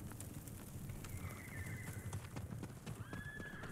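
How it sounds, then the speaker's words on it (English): Horses in the Ghost of Tsushima video game whinny twice over a steady clip-clop of hooves, the neighs standing out clearly against the galloping rhythm, no speech. "Oh, I hear the horses."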